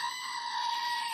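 A screaming goat sound effect: one sustained, loud, high-pitched bleating scream held for about a second, heard alone.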